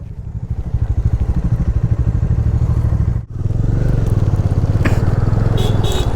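Motorcycle riding on a mountain road in Ladakh: a loud, steady engine drone with a fast pulsing rhythm throughout, dropping out briefly in the middle before resuming at the same level.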